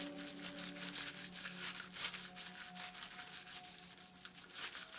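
Sheet of crinkled material rubbed lightly over wet spray paint on a poster board, giving a quiet, continuous papery scuffing with faint rhythmic strokes and no talking.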